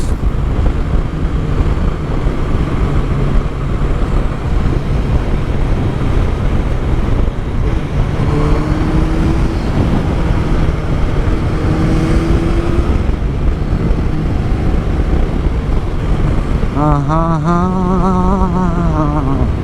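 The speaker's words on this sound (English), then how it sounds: "The bike's running nice." A Kawasaki ZZR 1100 motorcycle runs steadily while being ridden, its engine drone heavily buffeted by wind noise at the microphone, with a brief rising whine near the end.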